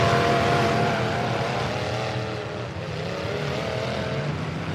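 A full-size pickup truck engine drones steadily at a bash demolition event, a loud continuous roar with tonal hum, heard alone.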